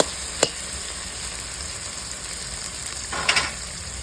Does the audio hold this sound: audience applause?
no